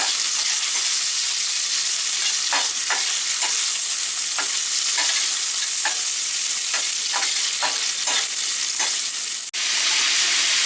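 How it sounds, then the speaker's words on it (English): Bacon sizzling loudly in a hot pan, a dense continuous crackle with scattered pops and stirring scrapes, close up and with no voices. "Get that bacon going real well."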